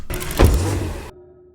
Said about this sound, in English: I added this car closing door effect.